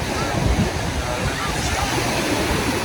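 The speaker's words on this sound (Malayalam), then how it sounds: "ഫോണിൽ വെള്ളം തെറിക്കുന്നുണ്ട്." Sea water from Bay of Bengal surf sprays onto a phone held close, giving a loud, dense, unbroken hiss and rush of splashing water and wind.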